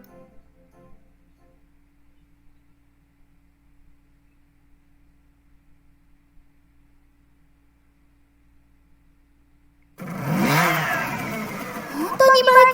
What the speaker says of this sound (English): Kotori muttered this while watching Amane start the engine to her scooter.